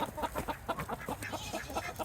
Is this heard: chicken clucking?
yes